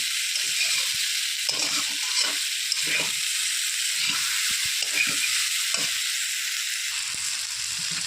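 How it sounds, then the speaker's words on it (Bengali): Potato and cauliflower sizzle and crackle steadily in a hot pan, with occasional stirring scrapes throughout. "এদিকে আলু ফুলকপিটা ভাজা ভাজা হয়ে যাবে"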